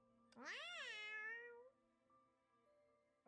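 A single drawn-out cat meow from a video game, clear and fairly close, rising then falling in pitch and trailing off, with no talk over it.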